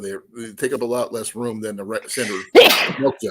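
A single sharp sneeze bursts out loud and close, briefly breaking into steady conversational talk about milk jugs in a cooler.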